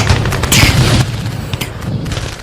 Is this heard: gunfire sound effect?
yes